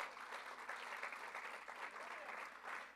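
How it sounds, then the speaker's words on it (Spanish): Faint, steady applause from a church congregation during a bishop's sermon, a continuous wash of many hands clapping, heard from some distance at low level. "Denle un aplauso al Señor, hermano."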